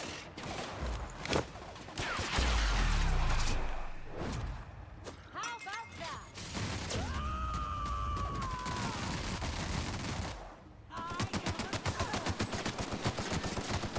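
Gunfire in The Outer Worlds video game, with bursts of rapid automatic shots and single thuds, a heavy boom early on, and a fast rattling volley near the end, mixed with game sounds.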